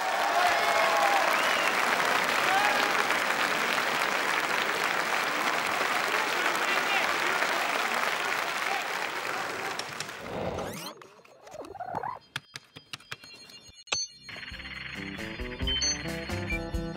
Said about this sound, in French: Je vais vous demander de l'applaudir, c'est monsieur Charles Trenet qui est là.